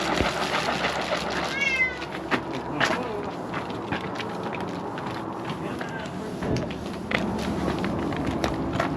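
A cat meowing and walking about in a workshop, a few short meows with soft footsteps and scattered knocks, close by, while a person talks to it.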